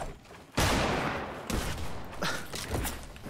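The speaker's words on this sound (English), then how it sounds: "Shotgun. Shotgun." Pump shotgun blasts in a video game, a heavy, loud close shot followed by a few more booming reports spaced irregularly across a few seconds.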